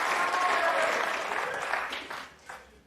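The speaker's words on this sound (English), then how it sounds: "The crowd getting excited." Snooker crowd applauding in an arena during a tournament final, a dense, loud burst of clapping that holds steady and then tapers off with a few final claps.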